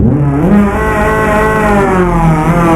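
Game engine of a lowered Peugeot 207 with a loud aftermarket exhaust in Euro Truck Simulator 2, droning steadily and rising in pitch as it revs, loud and close throughout with no talk.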